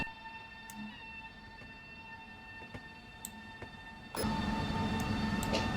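A Pendolino train in the rail simulator SimRail hums along with steady tonal whine and occasional clicks and knocks, the noise swelling louder near the end; no talking.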